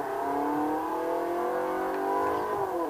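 A BMW M3 engine in Forza Horizon 3 drones steadily and close, its pitch rising gradually as the car accelerates, with no talking.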